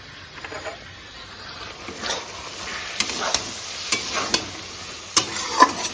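Chili, ginger and garlic paste fries in a pan, a quiet background sizzle broken by repeated sharp scrapes and clicks of a spatula stirring at irregular intervals.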